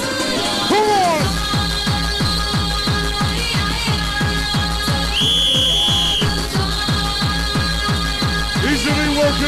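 A crowd at a 1996 rave whistles loudly over a pounding four-on-the-floor dance beat, with a long shrill whistle tone rising clearly above the music midway through.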